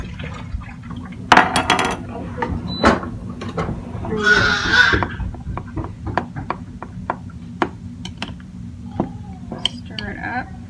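Water is poured into flour for a sourdough starter: a short splashing pour in the middle, set among scattered clinks and knocks of utensils and dishes, with light talk nearby.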